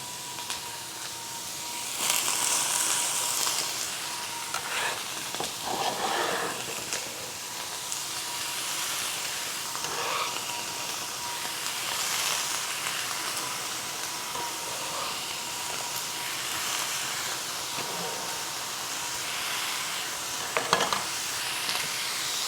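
Medium onion and about three cups of vegetables sizzle steadily in a pan, with occasional louder scrapes and stirring motions breaking through the continuous frying hiss.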